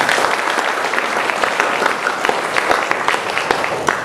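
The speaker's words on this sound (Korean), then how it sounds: "박수 한번 쳐주세요." Warm applause from a church congregation welcoming a newcomer during a service, a steady, fairly loud patter of many hands with a few sharper claps standing out.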